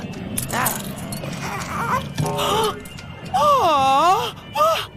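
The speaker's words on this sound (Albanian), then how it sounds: "Qeni i keq trembi Buffyn tim të shkretë." A dog whines in high, wavering cries, several drawn-out whimpers rising and falling, mixed with people talking nearby.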